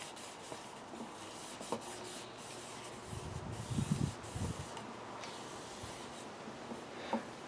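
A carved end-grain wooden bowl is rubbed to clear beeswax residue, giving soft continuous scuffing with a few denser bursts of rubbing midway, close and fairly quiet, with no talking.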